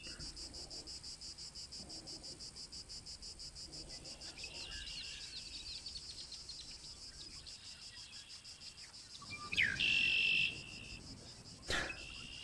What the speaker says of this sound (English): Man, I haven't heard some of these birds in a long time.